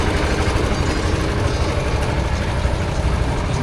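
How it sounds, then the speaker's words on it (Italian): A small gasoline motor drives a street vendor's sweets-making machine outdoors, a steady, rough low-pitched putter running continuously and fairly loud, with no talk over it. "Guarda qua come funziona il motorino della macchinetta del signore, addirittura con un motore che va a benzina"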